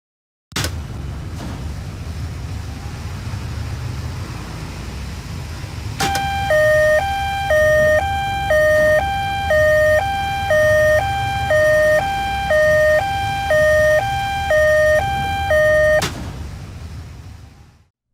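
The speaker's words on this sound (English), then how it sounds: "The warning siren comes on and remains on at all times that motor M2 is running and motor" In a simulated emergency-stop motor control circuit, a low motor hum runs alone at first, then an electronic warning siren starts and alternates steadily between two pitches before cutting off.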